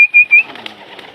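Native deshi pigeons give short close cooing and fluttery calls, a couple of brief notes at the start followed by soft rustling and faint background noise.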